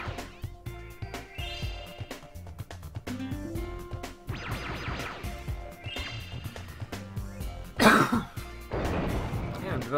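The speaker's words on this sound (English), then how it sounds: "I'm developing a cough." A streamer coughs and clears his throat while playing Spyro: Year of the Dragon, short close bursts scattered among loud game music and sound effects.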